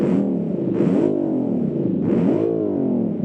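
A custom-built car engine in BeamNG rumbles loudly and revs up and down in several swells, its deep, steady drone rising and falling close by without talk.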